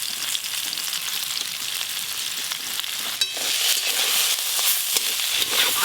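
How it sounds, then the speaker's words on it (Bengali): Poppy seeds and mustard oil crackle and sizzle in a pan beside red amaranth greens, a steady bright frying hiss that runs throughout, with a brief sharp pop near the middle and no talking. "মাঝখানটা ফাঁকা করে তেল আর পোস্ত দিয়ে দেবো, সর্ষের তেল।"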